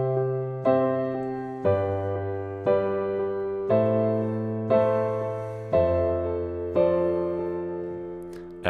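Piano plays the verse of a song in an alternating-hands pattern: steady chord strikes about once a second, each ringing out and decaying before the next, with a low octave bass under the chords, close and alone.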